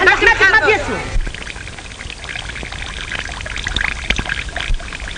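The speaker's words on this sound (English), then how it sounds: "The water clock is at last empty" Water running out of a water clock: a short pouring gurgle at the start that quickly gives way to a faint, noisy trickle and room tone.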